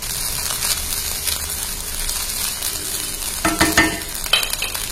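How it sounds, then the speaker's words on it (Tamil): Okra stir-fried in a pan with chili powder and crushed peanuts gives a steady, moderate sizzle with occasional stirring scrapes and light clinks of a utensil near the end. "தீர மாதிரி இருந்தா இடையில கிளறி கொடுங்க"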